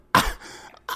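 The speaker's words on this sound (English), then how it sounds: "You interpreted me clearing my throat" A person clears their throat once, close and fairly loud, with a brief softer vocal sound trailing after and a short burst at the end; no words spoken.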